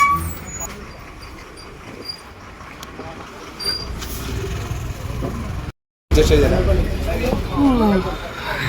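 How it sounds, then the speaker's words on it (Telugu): A bus pulling up at a roadside stop amid traffic: its engine and road noise build loud and close toward the end, with people talking over it. "బస్సు వచ్చిందిరా, పోదామా?"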